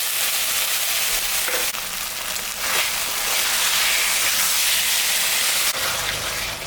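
A paste of ground ginger, cumin and dried chilli with salt and turmeric fries loudly in a pan for a Bengali mrigel fish curry, giving a continuous close sizzling hiss that surges briefly as it is stirred, with no talking.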